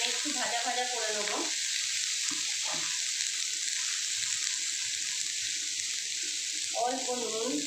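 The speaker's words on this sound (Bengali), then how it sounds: "পটলগুলো একটু হালকা করে ফ্রাই করে উঠিয়ে নেব।" Small pieces of pointed gourd fry lightly in a pan with a steady soft sizzle all the way through, while a voice talks briefly at the start and again near the end.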